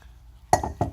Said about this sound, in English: Now I'm going to reattach the oil cooler to the oil filter housing.